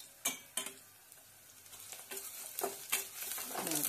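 Spices and onion fry in a pot for tamarind rasam, with scraping stirs coming in bursts, each followed by soft crackling that builds toward a brighter, louder sizzle at the end.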